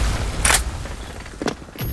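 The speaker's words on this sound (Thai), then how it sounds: "โอ้โหระเบิดแสงมาสองลูกตามสูตรครับผม" Two short, sharp flashbang grenade bursts in the video game Special Force, with hissing high-end crackle, the first louder and the second a moment later, over steady background noise without voices.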